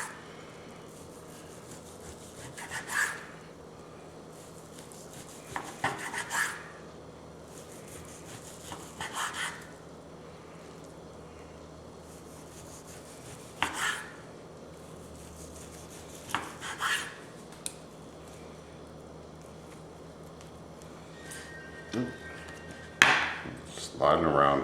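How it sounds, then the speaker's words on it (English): Knife slicing an oven-roasted eye of round beef into thin slices on a board, giving scattered firm cuts and scrapes spaced several seconds apart, close and moderately loud. "we are gonna slice this up into thin slices, roughly about a 1/4 inch"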